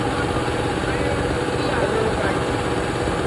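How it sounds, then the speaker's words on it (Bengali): A reciprocating air compressor's motor runs with a steady, dense mechanical drone, close and constant with no pauses. A voice talks over it. "এইটা হলো মোটর"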